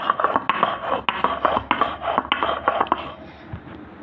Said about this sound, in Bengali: জিরে নিয়েছি, এলাচ নিয়েছি, দারচিনি এবং লবঙ্গ, এগুলো এখন আমি বেটে নেব